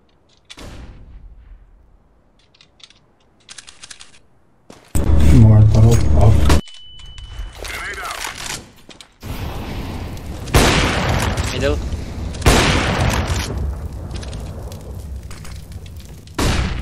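A flashbang grenade goes off in a CS:GO match on Dust 2, a sudden loud blast followed by a lingering high ringing tone, with players talking before and after.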